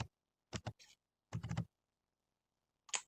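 A few quick computer mouse clicks and key taps in design software, sounding in short close bursts separated by silence.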